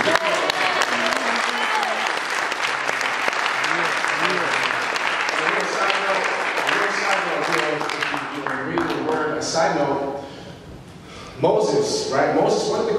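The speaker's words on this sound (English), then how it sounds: "Give the Lord a round of applause" Church congregation gives the Lord a round of applause, dense loud clapping mixed with cheering voices, fading briefly before a preacher's voice returns.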